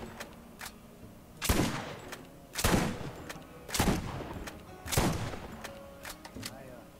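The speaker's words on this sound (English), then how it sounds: "I actually like this weapon. TK's Wave." TK's Wave gun fires in Borderlands: The Pre-Sequel, four heavy evenly spaced blasts with a few lighter crackling shots between them, heard over steady game background noise.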